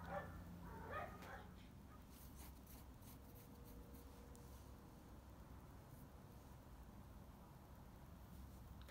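Dogs barking and yipping near the start, then fading as a person speaks over a faint background hum.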